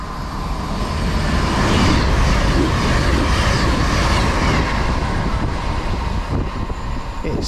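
A cross-country passenger train rumbles steadily through Worcestershire Parkway station on the Cotswolds Line, a loud, continuous roar of wheels and engine close by that holds level for several seconds.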